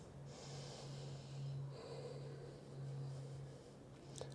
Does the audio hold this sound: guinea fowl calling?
no